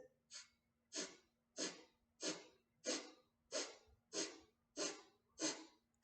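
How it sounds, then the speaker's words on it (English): Breath of fire breathing exercise: nine rapid, evenly spaced forceful nasal exhales with inhales, about one every 0.65 seconds, close and clear with no talking. "breath of fire, which is an inhale and an exhale through your nose"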